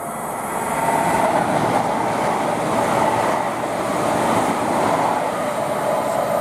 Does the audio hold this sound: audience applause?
no